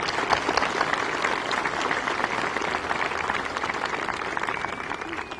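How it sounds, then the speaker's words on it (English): Commencement audience giving a sustained round of applause for faculty and staff, dense, even clapping filling the hall for several seconds with no voices over it. "Please join me in acknowledging Eastern's dedicated professionals with a round of applause."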